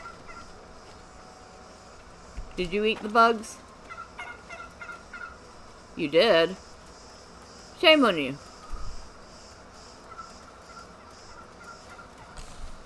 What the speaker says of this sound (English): Hello, bird.